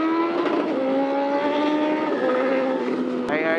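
A rare superbike's engine revs hard while being ridden, a loud, continuous high-pitched wail rising and holding steady, with wind roar underneath and a brief sharp change near the end.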